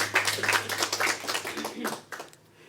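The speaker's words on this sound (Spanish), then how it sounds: "Den un aplauso a Cristo" A church congregation claps briefly, a patter of many hands that thins out and fades after about two seconds, with a low hum and some voices underneath.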